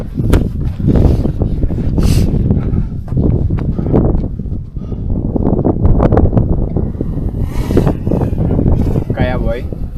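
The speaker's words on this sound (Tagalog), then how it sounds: "Mahangin." Strong gusting wind buffets the microphone on the Ambangeg trail of Mt. Pulag, a loud continuous rumble with people talking over it throughout.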